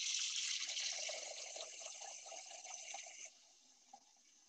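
Water running from a kitchen tap into a container to measure 4 cups for cooking, a faint steady hiss and splash that thins out and stops, followed by a small clink.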